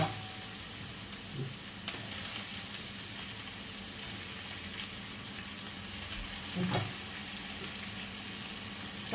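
A pan sizzles with a constant close hiss as tomato is tossed in, punctuated by a couple of soft clanks and stirring scrapes, without any talking.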